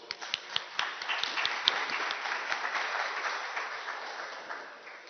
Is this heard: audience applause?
yes